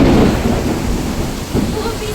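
Heavy rain pours down with deep rumbling thunder during a storm, a loud continuous wash of rainfall with low booming rolls close by.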